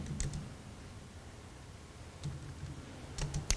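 Keystrokes on a computer keyboard as a Linux command is typed into a terminal: a few light clicks near the start, a short cluster in the middle and a faster burst at the end, close and fairly quiet with no voice.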